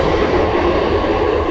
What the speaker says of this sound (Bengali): বেলুড় থেকে ট্রেন ছাড়লো, এবার রিষড়ায় নেবে।